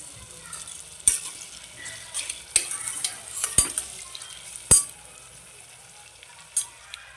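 Chopped onions frying in oil with salt in a home kitchen: a quiet steady sizzle broken by several sharp, close clacks and scrapes of a spatula against the pan.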